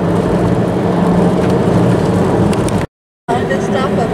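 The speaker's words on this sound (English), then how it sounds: "Can't believe there's any traffic out here." Loud, steady road noise from a passing car fills the clip, cutting out abruptly for a moment before resuming.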